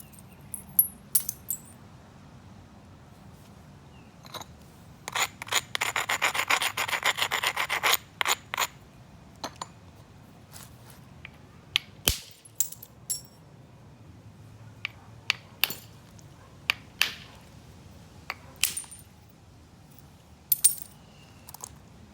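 A very tough hard rock is scrubbed and scraped in bursts of rasping, gritty rubbing, with quick clicks and knocks between the strokes and quiet gaps in between, close and fairly soft.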